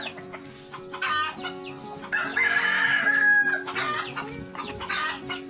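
Free-range chickens held in a cage: a rooster crows loudly and close by while hens cluck steadily around it, with no talking.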